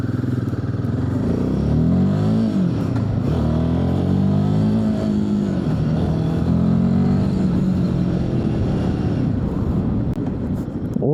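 Royal Enfield Himalayan 450 single-cylinder motorcycle engine running steadily while riding, its throbbing note rising and falling with throttle changes, close and loud throughout with no talk.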